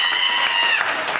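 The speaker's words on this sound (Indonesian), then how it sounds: "woi tepuk tangan di belakang" Applause from people at the back of a café gathering comes as a short, dense burst of clapping, close and lively.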